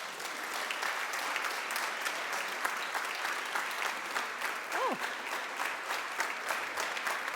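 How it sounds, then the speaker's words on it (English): Steady audience applause fills a hall at a talk on press freedom and women's rights in Afghanistan, with dense continuous clapping throughout and a brief whistle-like tone in the middle. "I think we should give them all a big applause before we start."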